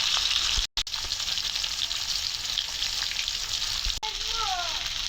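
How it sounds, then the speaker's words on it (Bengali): Hilsa fish frying in hot oil, a steady close sizzle with crackling pops, briefly interrupted twice, and a faint voice in the background toward the end. "ইলিশ মাছ রান্না করতেছি"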